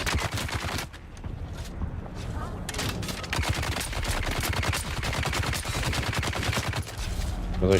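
Rapid automatic gunfire from the player's weapon in a video game, a loud, close, steady stream of shots with a brief pause near the start and another late on, with faint talk mixed in.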